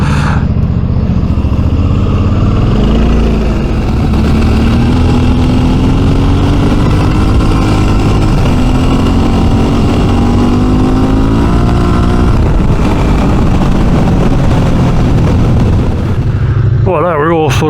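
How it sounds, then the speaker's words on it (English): A group of adventure motorcycles on a road ride rumble and rev as they make a U-turn, with engine drone loud and constant throughout and rising pitch as bikes accelerate; wind buffets the microphone heavily. "Mayhem do a bloody U-turn with a bunch of adventure bikes"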